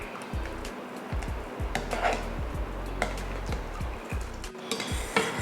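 A spoon stirring semiya payasam made with carrot and 200 grams of sugar in a pot, close scraping and knocking strokes at an uneven pace over a low steady hum, with no talk.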